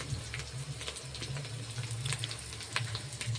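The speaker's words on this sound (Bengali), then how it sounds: "তার জন্য পেঁয়াজ, রসুন, আদা মশলাটা একটু ভেজে নিচ্ছি" Onion, garlic and ginger masala frying in a pan, a steady close hiss of sizzling oil with faint scattered crackles running throughout, no voices.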